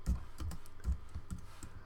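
Someone types on a computer keyboard, with about half a dozen soft, close keystrokes in an uneven rhythm and no talking.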